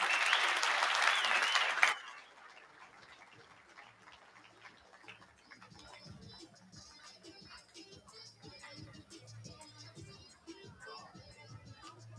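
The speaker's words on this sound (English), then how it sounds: "A big round of applause for these amazing agents." Audience applause at a construction-industry conference session in a Marriott hotel ballroom in Newton: a loud burst of clapping that cuts off sharply after about two seconds, followed by quiet room murmur and scattered faint sounds.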